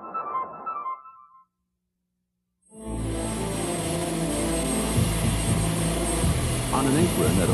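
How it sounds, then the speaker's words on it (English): Boeing 737 engines run on an apron at Orlando International Airport, a loud, steady jet roar with a high whine that rises abruptly after a short burst of speech and a moment of silence. "this specially equipped 737, a flying laboratory, goes through final checkout"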